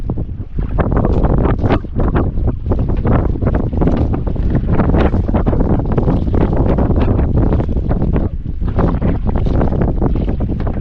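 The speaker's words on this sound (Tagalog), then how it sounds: "Grabing hangin mga idol ay." Strong wind roars and gusts heavily against the microphone, loud and constant throughout with deep buffeting rumbles.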